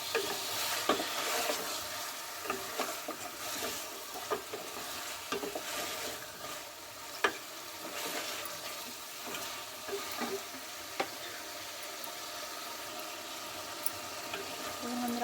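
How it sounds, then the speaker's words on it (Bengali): Country chicken meat sizzles steadily in oil close up, with repeated scraping and clinks of a spoon stirring the pan throughout. "আর মাংসটা কষা কষা হয়ে যাবে একদম ভাজা ভাজা হয়ে যাবে তেলের মধ্যে"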